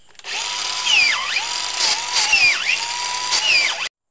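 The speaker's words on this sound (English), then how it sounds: "now that we got our holes drilled," A power drill bores holes into a log for shiitake mushroom growing, a loud close whine that rises and dips three times as the bit bites into the wood, then stops abruptly.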